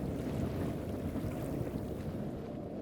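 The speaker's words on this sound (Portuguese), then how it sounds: "O som do vento diminui." Wind blows over a river beside a canoe, a soft, steady, low hushing rush that stays even and fairly faint throughout, with no voices.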